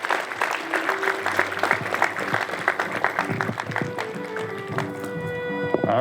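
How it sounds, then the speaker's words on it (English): Audience at a school moving-on ceremony breaks into a burst of clapping that stays lively and dense before tapering off, with faint background music near the end. "Please give them a round of applause as well."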